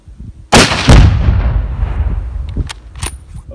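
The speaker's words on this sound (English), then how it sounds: "we've got an example of a couple shots here I'm going to show you" A rifle fired from the prone position during hunting shot practice: a sharp, loud blast followed by a second report and a long rumbling decay outdoors, with faint clicks after.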